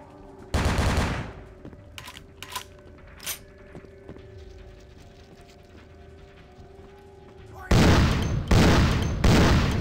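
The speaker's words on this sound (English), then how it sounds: "gun's amazing! I got 3 shots left." Gun blasts in Vampire: The Masquerade - Bloodlines, one loud shot early, a few faint mechanical clicks, then three heavy shots in quick succession near the end, with a low ambient hum between.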